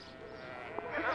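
Goats kept by Arab herders in the Sinai bleat faintly in an open outdoor setting, a single brief call standing out over steady background noise.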